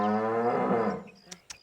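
A male buffalo lets out one long, loud, low moo that slowly fades, followed by two faint, sharp clicks.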